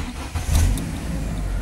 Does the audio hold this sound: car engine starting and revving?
yes